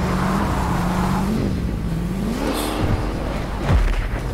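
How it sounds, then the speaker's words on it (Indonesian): A car engine in Fortnite hums steadily, with pitch rising and dropping as it revs, plus a couple of sharp swooping sounds near the end. "Suara mobil"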